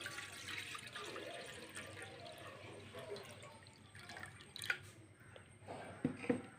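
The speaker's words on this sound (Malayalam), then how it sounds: "പാത്രം വെച്ച് ആവശ്യത്തിന് വെള്ളം ഇങ്ങോട്ട് ഒഴിച്ച് കൊടുക്കുക" Water trickles and splashes into a vessel at low level, with a few louder drips and clinks near the end.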